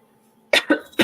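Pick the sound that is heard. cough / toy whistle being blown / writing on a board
cough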